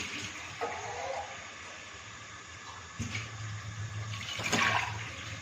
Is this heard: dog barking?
no